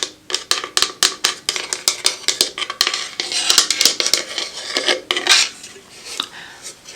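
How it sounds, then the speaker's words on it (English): Rapid uneven tapping on a coconut-shell kalimba thumb piano, a string of dry, bright clicks and knocks, close and fairly loud, with no talking. "I like the tapping sound better than the thumb piano sound"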